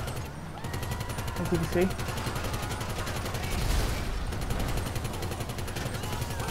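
Mounted guns on a Weaponised Tampa muscle car fire in GTA 5, a rapid, unbroken stream of loud close gunfire rattling throughout, with someone talking over the shots.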